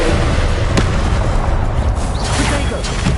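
A Confringo blasting spell in the video game Hogwarts Legacy, heard as loud crackling explosive bursts over a dense, continuous wash of battle noise, with a couple of sharp blasts standing out.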